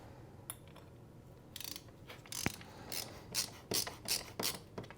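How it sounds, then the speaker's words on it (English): A screwdriver drives a screw to fix a fan bracket onto a radio dummy load, making faint ratcheting clicks and short scraping turns that grow into quick, regular bursts. "grab a screwdriver and screw this in"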